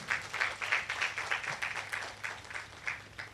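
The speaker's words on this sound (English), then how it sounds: "Can we please give the team a round of applause?" An audience at the AAR Healthcare Lavington launch applauds the team, the clapping coming in close, pulsing bursts of fairly even rhythm over a few seconds.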